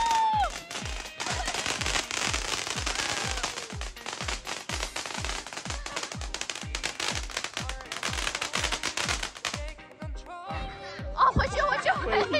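At a family's home on Independence Day, a string of firecrackers crackles in rapid, evenly spaced bangs for about ten seconds before stopping. Family members' voices and laughter can be heard around and after the blasts.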